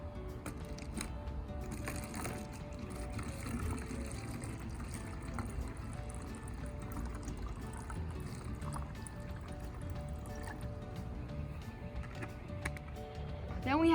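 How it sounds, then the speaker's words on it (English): Vinegar being poured into a plastic water bottle for a baking soda experiment produces a steady, low gurgling trickle of liquid that runs throughout, fairly close, with a brief louder sound at the very end. "we are going to fill the water bottle with the vinegar about 1/3 of the way"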